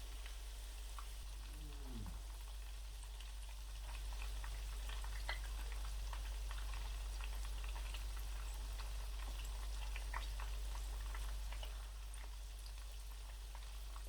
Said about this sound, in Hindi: तकरीबन 5 मिनट ऑयल में फ्राई करने के बाद मैंने एक बार जो है रोल्स को पलट दिया है